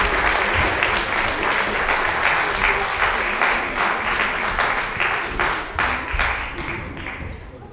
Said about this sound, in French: je demanderai d'applaudir Aurélien, Lucas et Donovan